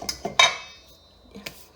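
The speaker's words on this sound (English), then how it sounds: "custard powder and plain flour. We're just gonna give a good mix." Metal whisk stirring custard powder and plain flour together in a bowl, giving a few quick, close clinks and scrapes against the side before it goes quiet.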